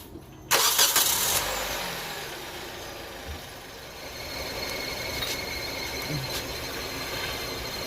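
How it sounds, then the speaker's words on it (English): A car engine cranks and fires up with a sharp burst, then settles into a steady idle with a faint belt whine from the accessory drive, heard up close. "let's start the engine right now and find out where is that noise coming from"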